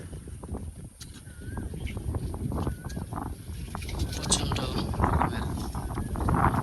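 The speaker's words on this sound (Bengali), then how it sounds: "আপনারা বাতাসের শব্দ নিশ্চয়ই শুনতে পাচ্ছেন" A monsoon wind blows across open rural fields along a palm-lined dirt path, buffeting and rumbling steadily at close range. Faint bird chirps sound now and then over the gusts.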